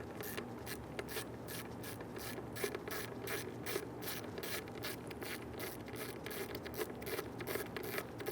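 A ratchet clicks steadily as fuel pump bolts are loosened on a 1994-2004 Ford Mustang, quick regular pawl ticks close up and fairly quiet, with no talking.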